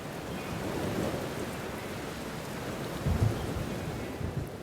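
A storm with steady, dense rain, wind and a low rumble of thunder swelling briefly near the middle, all heard alone as a continuous loud wash.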